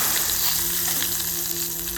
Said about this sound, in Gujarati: આ બધી સારી રીતે તતડી જાય એટલે પછી આપણે એમાં નાખશું હિંગ